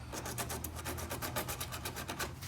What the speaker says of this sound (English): you just want to lightly start moving the tape and sanding the tape back, and with the 60 grit